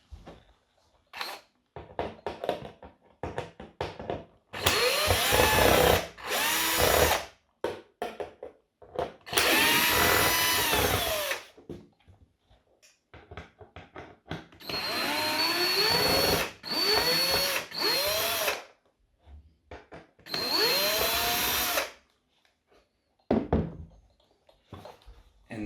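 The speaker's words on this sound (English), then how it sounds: "remove those screws" Screws being removed from a 1:18 Norev Mercedes-Benz 300 Adenauer W186 model car with a small electric screwdriver, several short whirring bursts separated by quiet gaps, with light taps and clicks of handling in between.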